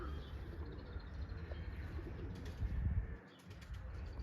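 A young smoky tumbler pigeon in a training flight, heard as soft cooing and faint wing flutter over a steady outdoor background hum, distant and low, with no speech.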